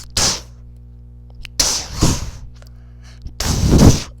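Voice imitating a slowed heartbeat during hibernation: three loud, breathy thumps spaced widely apart over a faint steady hum, close up, each beat followed by a long pause.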